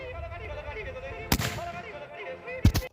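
A Swiss Schmidt-Rubin K31 rifle in 7.5x55 is fired from the prone position at a 50-yard range, with one sharp distant report midway and a second sharp crack near the end over quiet background noise.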